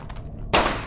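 A single gunshot fired at a cave wall in Hidden Deep, a sharp loud crack after near silence, followed by a short decaying echo.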